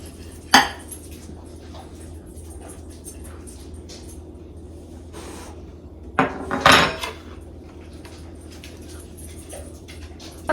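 A knife cuts a slice from a loaf of homemade banana bread, giving one sharp knock early on and a louder cluster of scraping and clattering strokes midway, with quiet stretches between and no talking.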